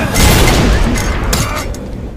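A pistol fired inside a room during a fight scene in a horror film: one loud, booming report that fades into a rumbling echo, with no voices.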